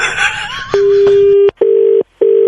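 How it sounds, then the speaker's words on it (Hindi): A telephone handset is put down, and a steady line tone follows, then breaks into long, evenly spaced beeps. The tone is loud and close, with a brief muffled voice and clatter at the start. "हम रख रहे फोन, रखो।"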